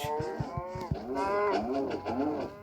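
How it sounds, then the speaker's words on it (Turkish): Cows in the Minecraft video game moo repeatedly, with several drawn-out, wavering moos following quick thumping hit sounds, close and clear with no talk over them. "İnekleri öldür, inekleri öldür, koş."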